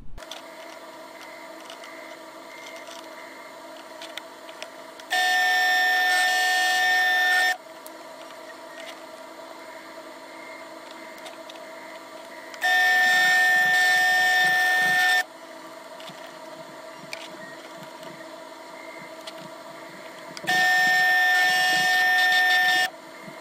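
Holes are drilled at evenly measured spots in a Mustang workshop project: three separate bursts of high, whining drilling, each about two seconds long, rise over a steady background hum.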